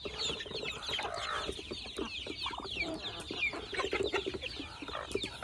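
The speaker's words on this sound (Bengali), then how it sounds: "এই যে ধলা মুরগি" Chickens on a small duck and chicken farm cluck and squawk in a steady, overlapping chorus, close by, with no talk over them.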